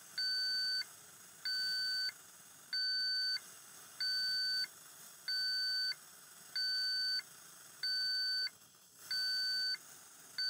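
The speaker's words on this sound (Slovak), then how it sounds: "A teraz si otestujeme jeho funkčnosť. Ak zdetekuje, že niečo nie je v poriadku, píši alarm" A gas alarm mounted in a caravan or motorhome sounds a run of about nine evenly spaced two-tone beeps during a test, moderately loud and close over quiet room noise.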